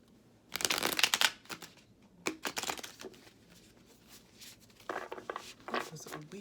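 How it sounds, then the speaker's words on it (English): Tarot cards being shuffled by hand in several quick riffling bursts with pauses between, close and crisp, with occasional soft talk. "Now I'm going to shuffle these cards 4 times and then pull to clarify"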